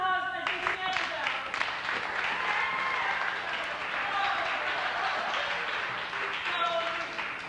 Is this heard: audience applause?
yes